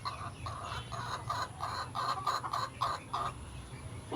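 Several hens cluck in a backyard garden in the cool evening air, repeated short calls forming a steady rhythm over a low ambient hum, close and moderately loud with no talking.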